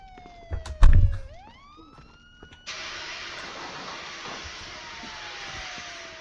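A fire truck siren in a game climbs in pitch after a couple of loud thumps, then holds steady and loud over a broad noisy rumble.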